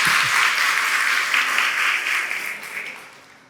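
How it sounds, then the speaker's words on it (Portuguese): A church congregation applauds for Jesus during a sermon, a dense burst of clapping that starts strong, holds steady, then fades out toward the end. "pode dar um aplauso a Jesus?"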